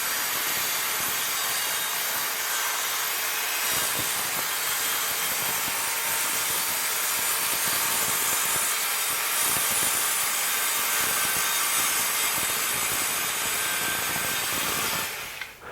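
An Evolution multi-material track saw cuts through wood with a shop vac hooked up for dust collection, a steady loud rasping whine that runs unbroken for about fifteen seconds before cutting off.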